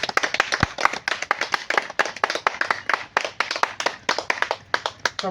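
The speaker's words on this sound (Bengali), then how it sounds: "জোর করে একটা তালি সবাই মিলে একটা" A group of people clapping together at a family gathering, a run of rapid, uneven hand claps that is loud and close and continues throughout, with no talking.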